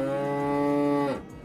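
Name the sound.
cow moo sound effect played on stream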